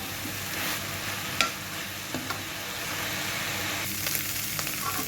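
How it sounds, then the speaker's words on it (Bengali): A mash of small chanda fish being stirred and fried in a pan, a continuous soft sizzle with scattered scraping knocks of the spoon against the pan. "এখন একটু নাড়াচাড়া ভেজে ভেজে নামাতে হবে।"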